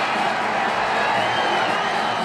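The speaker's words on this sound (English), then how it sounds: "Balboa, the Iron Man from Philadelphia, and this crowd is certainly with him tonight." A boxing arena crowd roars steadily for Rocky Balboa, the Philadelphia fighter, a dense continuous wash of cheering and shouting voices that holds at an even level throughout.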